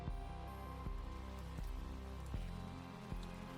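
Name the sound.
rain sound effect in audio drama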